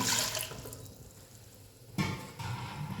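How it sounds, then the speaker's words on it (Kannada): Water pours into a large cooking pot for bisi bele bath, with a short splashing burst at the start, a quieter lull, then a second steady gush of running water. "ಒಂದು ಸ್ವಲ್ಪ ನೀರು ಸೇರಿಸ್ಕೊಳ್ಳೋಣ."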